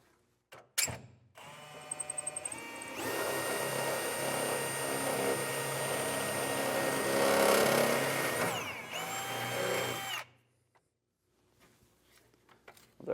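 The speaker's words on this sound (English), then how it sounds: "we will drill through that little template so that we have our pilot hole" A power drill whirs steadily for several seconds drilling a pilot hole through a template in a truck bed for an underbed gooseneck hitch, rising slightly in pitch before stopping abruptly, close up with some clicks at the start.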